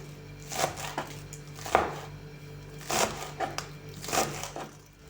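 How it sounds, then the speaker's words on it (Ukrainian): A knife finely chopping green onions on a board, crisp irregular strokes in short bursts with pauses between them, close and clear, no talking. "Для начинки дуже дрібненько нарізаємо зелень цибулю."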